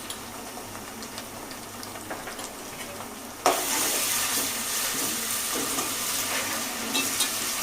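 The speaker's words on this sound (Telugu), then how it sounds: "అల్లం వెల్లుల్లి పేస్ట్ కూడా కొంచెం పచ్చి వాసన పోయేదాకా ఇలా 1 మినిట్ దాకా పెట్టేసుకోండి" Ginger garlic paste frying in hot oil for a prawn curry, a steady close sizzle that jumps sharply louder partway through as the paste hits the pan, with stirring scrapes and no voices.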